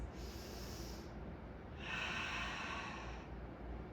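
A pregnant woman takes deep breaths during a prenatal yoga class. Two slow, airy breaths sound close and soft against a quiet room, with the second one slightly fuller.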